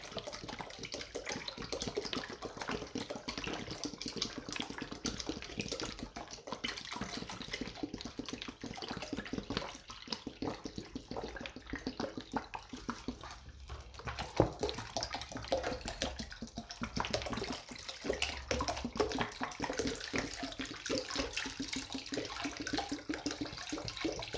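Water pours steadily into a liquid soap mixture as 2.5 liters are added, a continuous close splashing and gurgling that keeps a fairly even level throughout with no talking.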